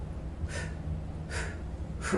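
A person breathes audibly to demonstrate inhaling and exhaling, three short airy breaths spaced out over about two seconds against a low background hum.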